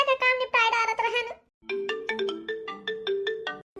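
Phone ringtone playing a bright electronic melody, first a rapid chiming phrase, a short pause, then a string of repeated tonal notes, close and clear with no talk over it.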